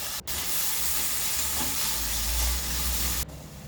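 Chopped tomato fries in a pan with onions and curry leaves for a Chettinad aviyal, giving a strong, continuous close sizzle with faint stirring before it drops off suddenly.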